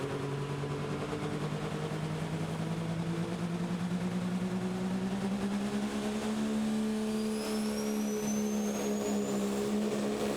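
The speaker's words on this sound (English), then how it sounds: "Living on the Edge is the name of the truck that Carl Enkelwitz Jr. will be driving." A pro stock diesel pulling truck runs at a Terre Haute, Indiana pull, its engine droning steadily and climbing gradually in pitch as it powers down the track, loud and continuous with no talk.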